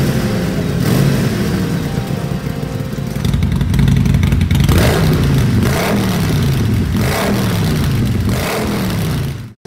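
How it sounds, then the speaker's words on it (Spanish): A motorcycle engine with a Kess Tech exhaust runs loud and close, revving up and down in repeated surges before cutting off abruptly at the end. "regula el volumen del sonido del escape"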